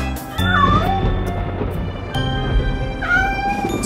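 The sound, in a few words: cat meowing in a children's Halloween song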